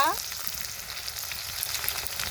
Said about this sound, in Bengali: মাছটাকে খুব ভালোভাবে ভেজে নিব